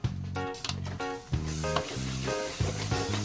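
Butter sizzles in a pan of paneer masala, a steady frying hiss broken by repeated rhythmic scraping and stirring bursts, close and fairly loud, with no talking.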